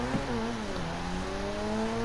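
A Grotti Turismo R supercar accelerates in GTA Online, its engine note rising steadily as it revs up, a continuous loud whine with climbing pitch over a constant background roar.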